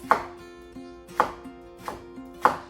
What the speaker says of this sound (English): I'm using these little green onions. I'm just gonna chop some up right now.